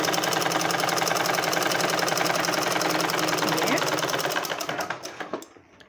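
A sewing machine stitches a blouse in a fast, steady mechanical whir with dense repeating ticks. It runs loud and close for about five seconds, then slows and stops.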